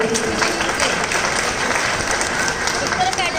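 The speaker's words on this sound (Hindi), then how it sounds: "एक बार जोरदार ताली तो बजा दो" Loud, dense applause from an audience at a Jain diksha ceremony at Shri Sammed Shikharji, steady crowd clapping filling the whole stretch with a few voices mixed in.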